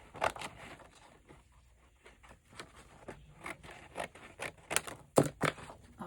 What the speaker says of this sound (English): And let's cut a second piece.